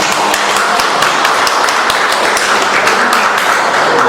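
Dense, steady applause from a crowd at a retirement poetry-reading celebration for a university professor, clapping for a photographer; loud, continuous and close throughout, with no talking over it.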